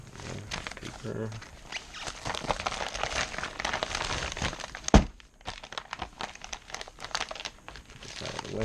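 Paper packing from an Xmaxx RC truck parts box crumpled and crinkled close by in a steady run of rustling, with one sharp crack midway, some talk mixed in.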